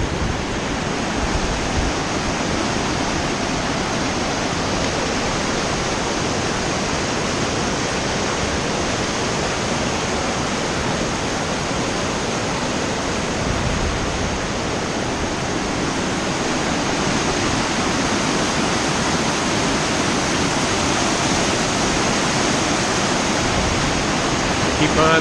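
Steady, loud broadband rush of river rapids near Devil's Kettle waterfall in a Minnesota state park, a constant churning roar of water that holds unchanged throughout with no voices over it.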